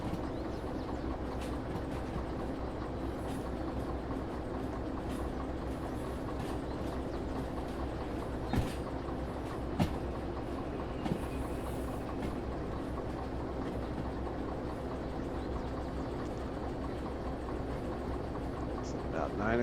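A freight train rolls along the tracks in the Derail Valley simulation game, keeping up a low, steady rumble with a few faint clicks and knocks over a constant engine drone.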